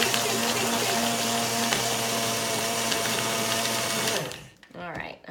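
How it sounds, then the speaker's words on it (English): A blender runs loud and steady while it blends a protein shake with strawberries, a constant whirring drone that cuts off near the end and gives way to faint handling noise. "So I am going to blend that now."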